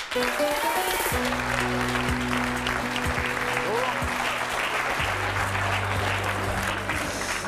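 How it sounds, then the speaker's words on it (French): A TV talk-show studio audience applauds a guest as he walks on, steady sustained clapping under a looping musical jingle, with no break in either. "Je vous demande d'applaudir et d'accueillir très chaleureusement Frédéric"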